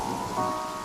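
Steady rain falling outdoors at an engagement ceremony, a dense even patter with no distinct drops standing out, moderately loud and continuous throughout.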